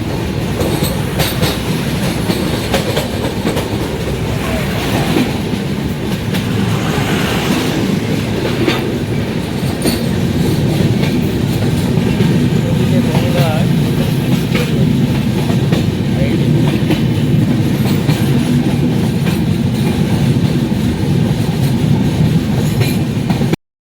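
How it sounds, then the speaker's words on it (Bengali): A loud train rolls steadily across the Farakka Barrage with rhythmic clickety-clack of wheels and occasional squeals, continuous and close throughout. "আমাদের ট্রেন এখন ফারাক্কা ব্যারেজে উঠে"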